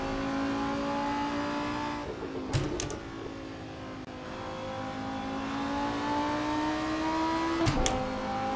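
A race car lapping Circuit Zolder in the Assetto Corsa racing game, its engine droning steadily with pitch sweeps as it shifts and revs, plus brief sharp bursts near two and eight seconds, loud and continuous with no talk.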